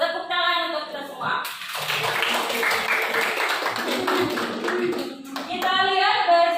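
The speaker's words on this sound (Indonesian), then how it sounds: "Tepuk tangan untuk kita semua" A classroom of students claps hands together in a short burst between stretches of a teacher's talking, the clapping bright and fairly close, with voices before and after.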